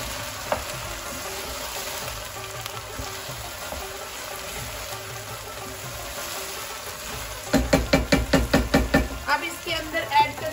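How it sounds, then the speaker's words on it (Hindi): Okra frying in a pan, with a steady hiss and sizzle throughout, then a run of sharp rhythmic knocks as a spoon stirs and scrapes the pan near the end. "ये 7 मिनट चम्मच भी हिलाते जाए।"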